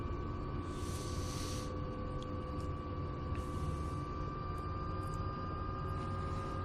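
A helicopter's engine and rotor run steadily at full spin-up in Microsoft Flight Simulator 2024, a dense, constant mechanical drone with tonal whine layered above it, loud and unbroken throughout with no talking.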